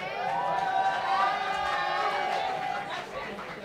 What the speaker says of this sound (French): voudrais ici et maintenant qu'on accueille avec applaudissements et des bruits, des cris, Jojo le comédien.